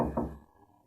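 A single dull knock lands on a back door, brief and muffled, with a faint hollow thud trailing away.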